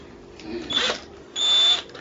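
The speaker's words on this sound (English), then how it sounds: "so let's make use of this drill" A power drill driving a screw into a mining rig frame, two short whirring bursts close by, the second longer and steadier, with no talk.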